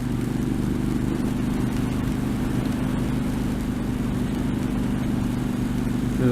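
A Triumph Street Scrambler motorcycle on the Patterson Pass road gives a steady, throaty low engine grunt that holds evenly throughout, blended with a constant wash of wind noise.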